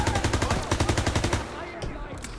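Rapid automatic gunfire from the Call of Duty WWII campaign plays as a loud, regular burst of shots, then gives way to a couple of scattered, quieter reports.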